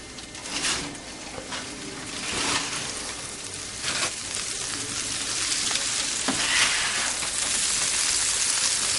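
Potatoes and chicken fry in oil in a pan, a steady dense sizzle with bursts of crackle and occasional stirring scrapes, close and continuous without talk.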